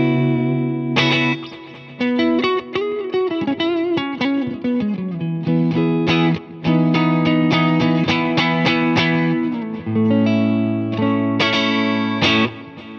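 Electric guitar on the neck pickup through a Boss IR-2 Tweed clean amp setting, playing a clean, sustained melodic line of chords and single notes with steady picking, loud and close, with no talking.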